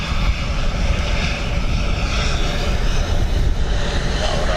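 An aircraft approaches runway 28 left at Dublin Airport with possible crosswinds, a steady loud roaring engine drone filling the whole span without a break; no voices.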